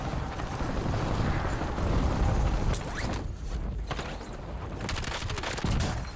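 Loud, sustained bursts of automatic gunfire in Call of Duty: Warzone, with close, dense shots running through most of the stretch and a brief lull near the middle before firing picks up again.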